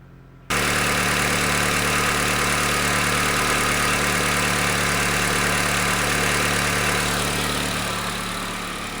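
A car engine idles steadily just after a cold start, a loud, constant drone close by that holds without change, with no voices.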